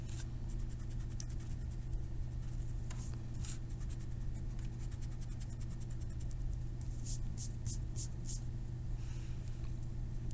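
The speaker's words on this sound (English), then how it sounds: "I'm going to erase this line and this line." An eraser rubs pencil lines off paper in soft, scratchy strokes, faint and close, with a few brighter bursts of rubbing over a low steady background hum.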